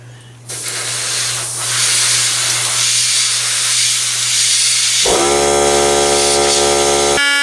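An airbrush sprays paint onto parts with a steady, close hiss, joined partway through by a buzzing motor hum that runs under the spray until it stops.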